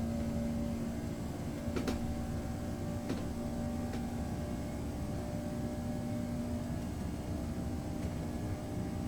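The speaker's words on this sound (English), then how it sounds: "So here the aircraft engines increase in intensity as we take off" A Boeing 757 in a flight simulator takes off, its engines giving a steady, loud drone with a humming tone that holds at an even level throughout, with a few faint clicks over it.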